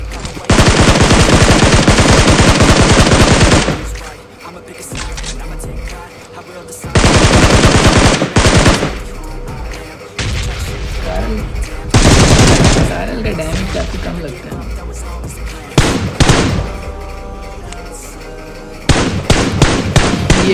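Gunfire in the PUBG Mobile game: loud, close bursts of rapid automatic fire lasting a few seconds each, separated by quieter gaps with scattered single shots and game sounds.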